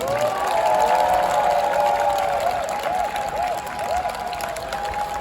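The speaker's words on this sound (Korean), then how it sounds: "다시 한 번 더 큰 박수 부탁드리겠습니다" Sustained applause from a crowd at a mayoral re-election campaign announcement, steady and fairly loud throughout, with a few faint tonal whistles or feedback rings above it.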